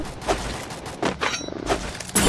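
Gunfire in an online shooter game, several sharp shots in quick succession with reverberant booms, loud and close, no voices over it.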